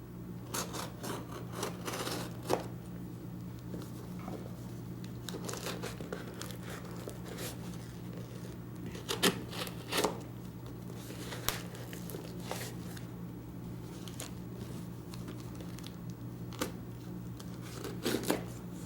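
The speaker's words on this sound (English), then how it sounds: "Let me see how we open up this box." A cardboard box holding a refurbished knife being opened by hand, close crinkling, tearing and scraping rustles in irregular bursts over a steady low hum.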